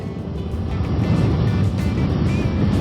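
A Kawasaki Ninja 7 HEV hybrid motorcycle accelerates hard on electric boost, its engine a loud, close, steady roar mixed with rushing wind noise for the whole stretch.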